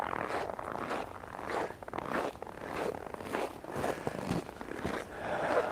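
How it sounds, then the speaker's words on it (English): Footsteps crunching through snow on a freezing winter night in Oulu, Finland: a regular rhythm of close, scraping steps repeats at a walking pace for several seconds, with no talking. "And you can maybe hear the sound of the footsteps also."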